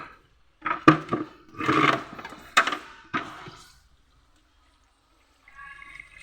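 Tap water running while wild yam is prepared: close, uneven gushes and splashes for about three seconds, then silence and a faint tonal trickle at the end, with nobody talking.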